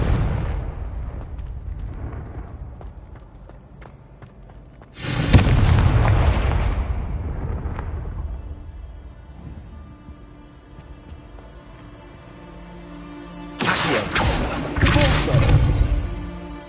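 Two loud spell blasts from the Confringo fire spell in the video game Hogwarts Legacy, a heavy booming explosion near five seconds with a long decaying rumble, then a second burst near fourteen seconds, over quiet game ambience.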